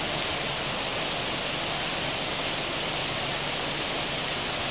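Heavy monsoon rain pours steadily at Yana, a constant dense hiss with no breaks and no voices.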